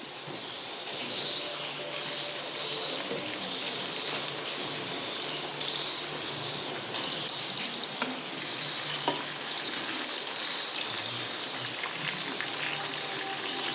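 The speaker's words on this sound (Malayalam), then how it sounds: "നമുക്കിനി അതിലേക്ക് കുറച്ച് നൂഡിൽസ് ഇടാം, ഒന്ന് ഫ്രൈ ചെയ്തെടുക്കാം" Noodles frying in hot oil in a pan for a crispy American chopsuey, a steady dense sizzle and crackle that runs without a break, close and fairly loud, with no voices.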